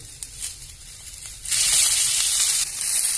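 Onion, garlic and curry leaves frying in a little oil sizzle softly at first, then burst into a loud, close, hissing sizzle that holds steady and eases slightly near the end.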